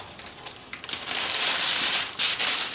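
Parchment paper crinkles and rustles close up as it is laid on a wooden pizza board while making sourdough pizza, a busy dry crackle with no talk.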